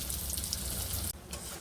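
Fish cutlets frying in oil, a dense, even hiss of sizzling that briefly drops out before resuming at a slightly lower level.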